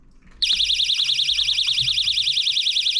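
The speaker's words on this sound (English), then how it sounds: "you get your alarm. You should be able to hear it." An ice fishing tip-up bite alarm turns on suddenly and keeps up a loud, shrill warbling electronic tone. It sounds close by and continues without a break.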